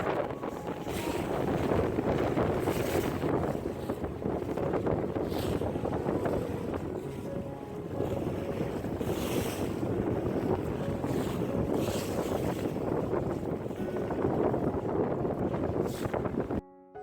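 Steady low engine rumble of a ferry crossing deep water from Aurora toward Bath, North Carolina, with wind buffeting the microphone and occasional splashes throughout.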